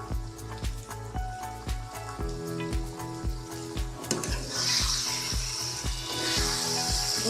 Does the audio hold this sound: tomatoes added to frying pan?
yes